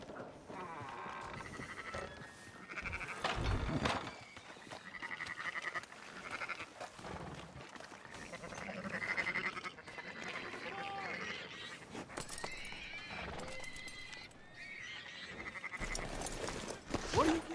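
Sheep and goat-like bleats from a video game sound out repeatedly at moderate distance over an ambient game soundscape, with farm animal calls rising and falling across the stretch.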